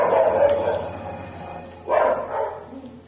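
A pet dog in a home kitchen gives a couple of short, mid-distance barks and yips, partly overlapping low background noise and faint voice sounds.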